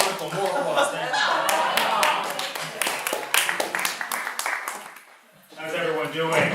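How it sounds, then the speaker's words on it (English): Audience applause and clapping at a masculinity-themed comedy festival performance, with dense handclaps throughout, a brief dip near the end, then rising again, mixed with some laughter and a talking voice. "More applause."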